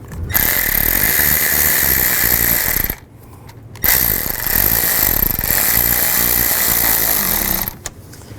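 A power tool whirs steadily while tightening the valve cover bolts on a 2005-2015 Nissan Xterra during passenger-side valve cover replacement. Two long, loud, close bursts are separated by a short pause, and the second run ends with a brief squeak.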